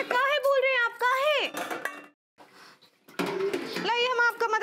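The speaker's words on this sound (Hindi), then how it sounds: "हमको बिल्कुल अच्छा नहीं लग रहा है कि आप हमारे घर के छूटे बर्तन धो रहे हैं" Dishes and pots clatter during washing of leftover household dishes, with soft clinks and knocks that mostly sit under lively talk, plus a short stretch where the clinking is heard almost alone.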